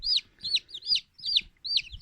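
Freshly hatched chicks in an incubator cheep repeatedly in bright, rapid peeps, five or six distinct bursts spaced evenly, near and loud with no voices over them.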